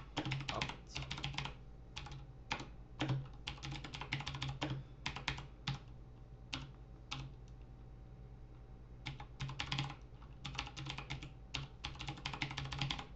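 Keys clack on a computer keyboard as a terminal command is typed on a Linux Mint system: quick bursts of close, crisp keystrokes with brief pauses between runs, and no talking.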